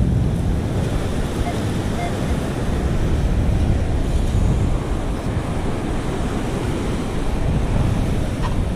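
Ocean waves wash onto a beach where someone is metal detecting, a loud continuous roar of surf mixed with heavy wind buffeting the microphone, steady and close throughout.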